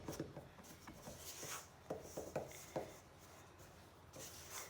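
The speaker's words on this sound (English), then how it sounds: "Mix that together, get right down to the bottom of the bowl with your spatula." Chocolate chip cookie dough being mixed in a bowl with a spatula, making soft, close scraping and thudding strokes in an uneven rhythm, fairly quiet, with no talking.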